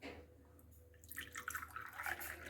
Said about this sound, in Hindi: थोड़ा थोड़ा पानी डाल देना चाहिए इसमें,